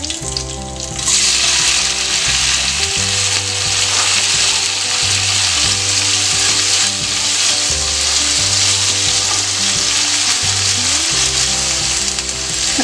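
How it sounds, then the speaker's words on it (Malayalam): Chopped tomatoes sauté with curry leaves for Kerala-style tomato rasam, a loud steady sizzle filling the whole stretch with bursts of stirring and pan scraping throughout. "ഈ തക്കാളി ഇട്ട് നമുക്കൊന്ന് വഴറ്റിയെടുക്കണം"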